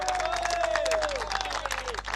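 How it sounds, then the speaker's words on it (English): Spectators applauding at a club cricket knockout match as a batsman reaches 150, a brief, moderate round of clapping heard at a distance under commentary. "And getting a warm round of applause"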